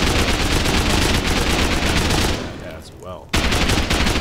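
In the Rust video game, rapid bursts of explosive 5.56 ammo hammer a metal wall as loud, dense automatic fire. A brief lull lets a short spoken phrase through before the shooting slams back in.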